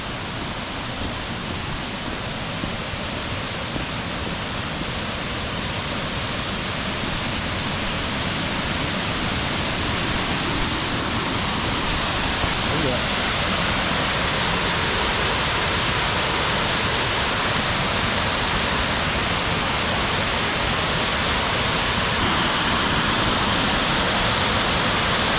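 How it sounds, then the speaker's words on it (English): A powerful waterfall roars steadily and loudly, a dense, unbroken rush of falling water with no pauses or other sounds. "Here's waterfall number 2."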